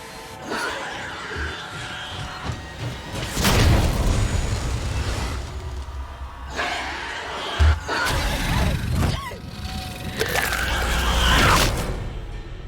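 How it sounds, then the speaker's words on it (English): A flashbang grenade goes off in the video game Alien: Isolation, with a sharp, punchy bang among booming in-game noises. Bursts of laughter and other game sounds come and go around it. "that flashbang did seem to shock the alien, because it didn't charge right through the blind and kill me."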